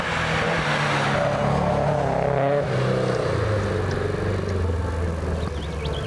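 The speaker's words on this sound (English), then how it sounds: "Peter Rogers, Datsun 1600. He's approaching" A Datsun 1600 race car works through tight turns at a lakeside hillclimb, its engine note rising and falling with gear changes, a steady rumbling roar at moderate distance heard alone.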